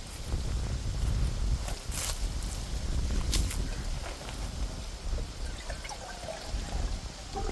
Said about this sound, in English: Get some water in there